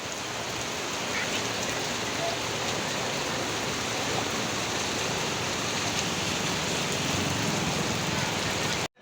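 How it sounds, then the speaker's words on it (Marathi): Heavy rain falls steadily outdoors, a dense, constant hiss of water on surfaces that stays loud and unbroken until it cuts off at the end. "गाईस किती पाऊस चालू आहे बघू शकता. खूप म्हणजे खूप."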